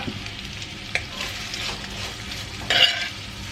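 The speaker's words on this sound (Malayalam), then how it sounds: "നല്ല സവോള ഞാൻ ഇപ്പുറത്ത് വഴറ്റുന്നുണ്ട്" Onions sizzle steadily with salt in a hot pan while cooking a Kerala chicken curry, close up, with a few scraping stirs and no talking.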